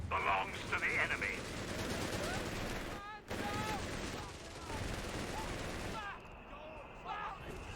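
Mortar fire and combat in Company of Heroes 3, with rapid gunfire and dull explosive hits over a dense battle din, a brief cutout near the middle, and someone talking briefly.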